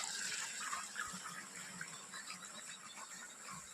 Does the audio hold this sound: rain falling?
no